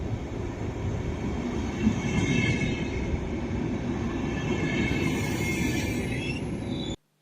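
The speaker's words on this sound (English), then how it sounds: "I just go back and forth on a train to school." Train ride in a PSP school simulator video game, a steady rumbling roll of the carriage with faint rhythmic wheel noise and a high metallic squeal, continuous and fairly quiet, cutting off abruptly at the end.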